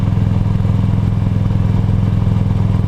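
A cruiser motorcycle under way, its engine giving a loud, steady low throb with a regular pulsing beat throughout, no voices over it.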